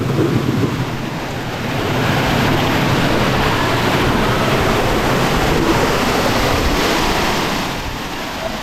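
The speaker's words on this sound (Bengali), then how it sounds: "নাবিতা চড়ার মূল ঝর্ণায়" The main waterfall at Napittachora, swollen with monsoon water, gives a loud, steady roaring rush that fills the scene without pause, with some wind buffeting on the microphone and no speech.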